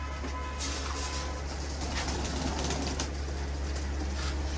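Pigeons coo softly under a low steady hum, with a few faint wingbeat flutters, in a loft where the birds are being vaccinated one by one.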